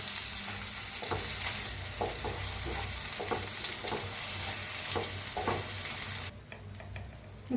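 Thick pea paste sizzling and frying in hot oil in a kadhai, with steady crackling broken by repeated scraping stirs of a spoon, loud and close, easing to a quieter sizzle near the end.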